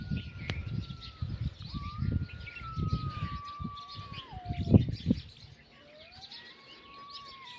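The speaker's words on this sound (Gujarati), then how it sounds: "અહીંયા તાર ઉપર જો પોપટ બેઠા છે।" Parrots perched on a wire on a farm give scattered, sharp chirps and calls at a moderate distance over a low background rumble, with a thin drifting tone running underneath.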